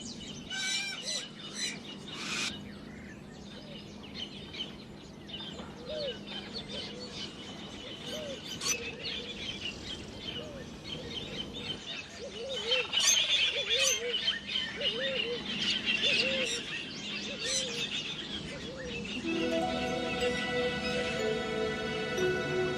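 Birds calling around Lake Baringo in Kenya, a continuous mix of chirps, tweets and repeated songs at moderate distance over a soft outdoor background, with no talk.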